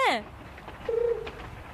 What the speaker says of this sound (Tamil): கெனிச்சி, இந்த புறாவை எனக்கு ரொம்ப பிடிச்சிருக்கு